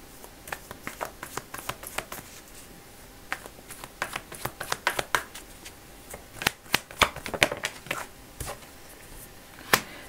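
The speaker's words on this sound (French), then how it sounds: "Je vous tire une dernière carte de tarot spécialement pour vous." Tarot cards being shuffled and drawn by hand, a series of crisp papery flicks and slaps in uneven bursts, close and fairly loud with no talking.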